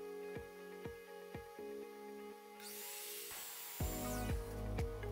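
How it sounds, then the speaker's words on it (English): A miter saw spins up and cuts through wood stock for gym bench feet, a loud whining rush of blade noise that rises midway and holds, over a steady background of repeated tool knocks. "I went over to the miter saw to cut the stock down to create the feet."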